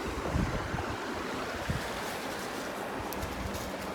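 Waves splash and wash onto the shore in a continuous rushing surf, close to the microphone and mixed with gusty wind noise, with no voices.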